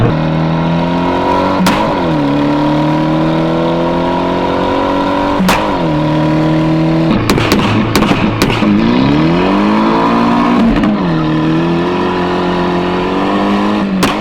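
Boosted car launching in a driveway doing a burnout, a loud engine held at high revs with pitch rising and dipping through several surges, sharp cracks and pops scattered between, close to the listener.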